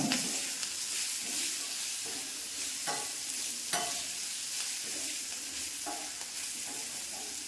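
Green chillies sizzle in hot oil in a small, narrow pan while being stirred, giving a steady close hiss broken by soft scraping and clinking stirs, with no voices.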